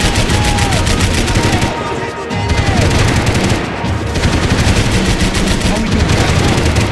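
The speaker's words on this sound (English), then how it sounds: "Concentrate with bullets whizzing past my head." Sustained automatic gunfire in the video game Max Payne 3, loud, dense and rapid, with two brief pauses between bursts and bullets whizzing past.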